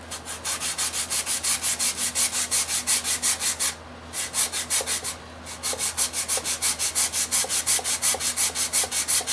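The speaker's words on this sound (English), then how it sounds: "I take a sanding block or a piece of foam insulation and" A sanding block rubs across a wooden clock body in steady, rapid back-and-forth strokes, close and loud, with two brief pauses partway through.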